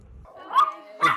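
A dog gives two quick, sharp barks close by, about half a second apart, outdoors at a house on a residential street.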